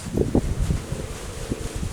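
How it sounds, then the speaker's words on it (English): Wind buffets outdoors in low, rumbling gusts, with a steady rustling hiss over the top and no voices. "it's very windy today"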